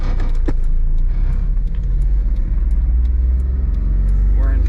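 Mitsubishi Bravo van engine running at a steady idle as the drive begins, a loud continuous low rumble filling the cabin with small rattles and clicks over it.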